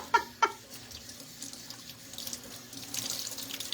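An EnviroCloth rinsed under a running kitchen tap: two light clinks at the start, then a steady stream of water splashing into the sink that grows fuller and louder.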